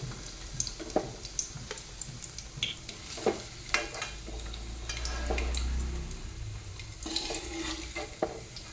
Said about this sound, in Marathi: ह्याच पद्धतीने तळून घ्यायचंय सर्व पनीर